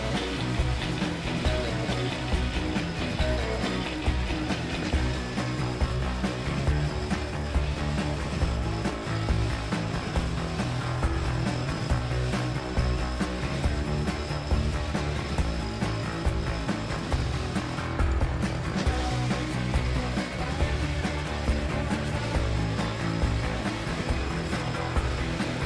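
A brushcutter fitted with a UNIK trimmer head runs continuously through brambles, a dense, buzzing whine with rough thrashing texture that holds steady at high intensity for the whole stretch, with no voices.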